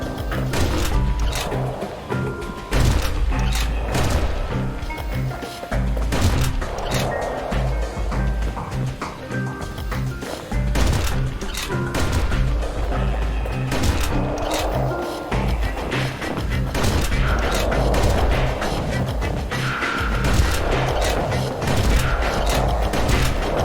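Gunfire in the video game Bastion crackles as repeated rapid shots over a dense, busy game soundtrack, with mechanical clanks and booms layered throughout at a steady loudness.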